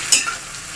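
A short burst of sizzling as capsicum is stirred in a hot pan, fading into a steady low frying hiss.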